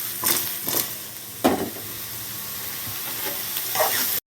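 Brinjal fry being stirred in a pan, with a steady close sizzle of frying eggplant broken by several scraping stirs, alone with no voices, ending in a brief silence.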